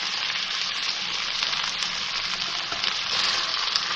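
Minced meat with green chillies sizzles steadily in a hot pan as qeema is cooked after adding yogurt, a dense, continuous crackle with small pops, fairly close and without any voices.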